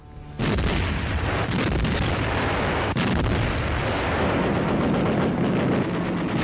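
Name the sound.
artillery bombardment of Warsaw, 1939 (archival)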